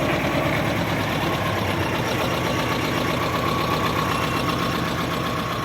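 A small tractor engine runs on a frosty morning at minus four degrees, a continuous loud, close idling rumble with a steady knocking pulse and no pauses.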